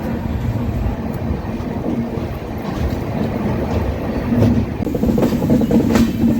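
A Swarnajayanthi superfast express train rumbles steadily along the tracks after leaving Visakhapatnam Junction, with a continuous low roar and faint rhythmic clatter, growing slightly louder toward the end; no voices.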